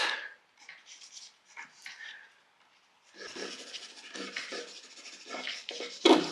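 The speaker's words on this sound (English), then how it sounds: "So we just rub this Tombow hard eraser again" A Tombow hard eraser rubs across a charcoal drawing of trees and hedgerows, making close, soft rasping strokes in short bursts, then a steadier run of scrubbing with a louder scrape near the end.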